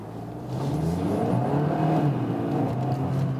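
Kia ProCeed GT-Line engine pulling in sport mode, a steady low drone that rises in pitch as the car accelerates, heard from inside the cabin with no talking.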